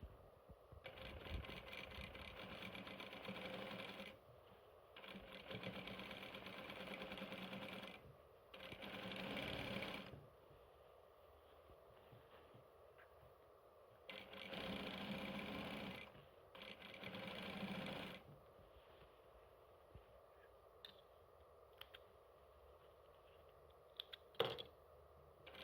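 Sewing machine stitching bias binding along a skirt hem, quiet bursts of rapid mechanical whirring several seconds long, separated by pauses and small handling clicks, with no talk.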